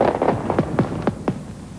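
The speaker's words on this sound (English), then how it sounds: "fireworks" Fireworks at a Japanese New Year celebration give a rapid series of about eight whistling, popping bursts, fairly close, with a steady background rumble and no talk.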